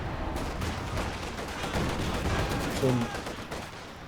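Gunfire and explosions in a World War II strategy game battle with tanks and infantry, dense crackling volleys and distant booms throughout, with a commentator's voice briefly over the fighting.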